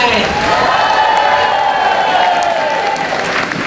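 A crowd at a Gstanzl and folk musicians' gathering in Altrandsberg applauds steadily, a full hall of clapping mixed with cheers and whoops, joined by a sustained musical tone and murmuring voices.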